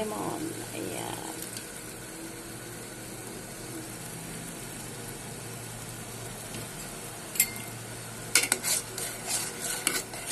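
Utensil scraping and clinking against a cooking pot as food is stirred while it browns after lemon is added, a steady low background hum beneath, with a few sharper metallic clanks near the end.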